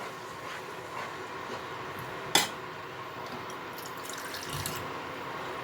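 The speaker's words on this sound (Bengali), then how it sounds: "এবার আমি এর মধ্যে জল দিয়ে দেবো।" Water is poured into a pan of spiced mustard and poppy seed masala, a soft watery trickle and faint sizzle with one sharp metallic clink, close and fairly quiet, with no talking.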